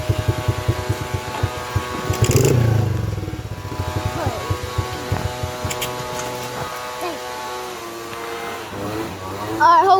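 Dirt bike engine revving in short bursts as it rides off, loud and close with uneven throttle surges and mechanical clatter, while voices talk over it.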